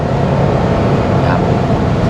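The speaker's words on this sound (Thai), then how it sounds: "เสียงลมมีนะครับ120 มีเสียงลม" Steady broadband wind roar fills the cabin of a car cruising at about 120 km/h, a constant rushing hiss over low road rumble with no breaks, and a voice talks faintly underneath.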